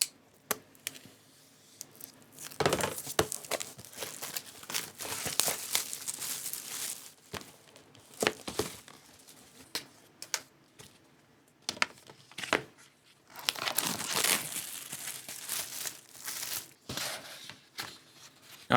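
A package of matte or glossy cardstock paper being opened up close, with scattered crinkling, tearing and rustling bursts of packaging separated by quiet pauses.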